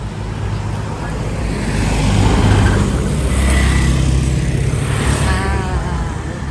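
A motorcycle engine rumbles on the road in Koh Chang, a continuous close drone mixed with wind and road noise that swells louder through the middle and then eases slightly.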